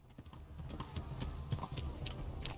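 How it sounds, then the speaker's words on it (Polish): Horse hooves thud rhythmically during riding in the video game Kingdom Come: Deliverance, a fast, even clip-clop that runs without a break at fairly close range, free of talk. "Jazda koniem ogólnie w tej grze jest dosyć przyjemna"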